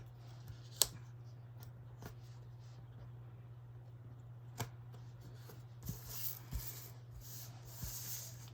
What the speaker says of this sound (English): I want to kind of cut this at an angle